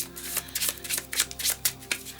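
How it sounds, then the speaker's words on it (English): A starting deck of playing cards being shuffled by hand for a print-and-play tabletop game, giving rapid, irregular riffling and slapping bursts, close and crisp, with no talking. "We are going to be shuffling all these together."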